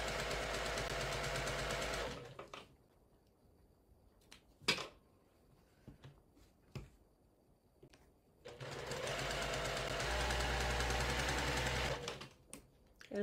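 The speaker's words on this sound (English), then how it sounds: "And I'm sewing my extra seam." A sewing machine stitches a seam in two steady, close runs of rapid mechanical whirring, separated by a quiet pause with a few soft handling clicks and knocks.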